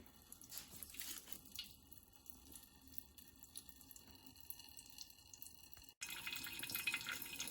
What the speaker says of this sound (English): Let it drip, or maybe you can even a smaller amount.